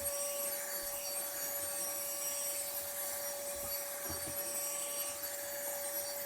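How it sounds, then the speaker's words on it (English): A handheld cordless vacuum sucks up a mound of salt and pepper from a floor with a steady, fairly faint motor whine and airy hiss, punctuated by a few light gritty rattles. "There was a mound of salt and pepper on that floor, and this just totally sucked it up."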